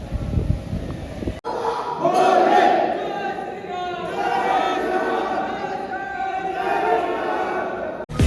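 A crowd of pilgrims at the Harishchandragad Shiva temple chants and shouts together in loud, sustained waves of voices, with background chatter mixed in.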